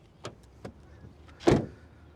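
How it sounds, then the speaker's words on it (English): A 2023 Toyota Prius XLE door shuts with a single firm, solid thud, preceded by a couple of light clicks from the latch and handle. "let's listen to the door sound when it closes"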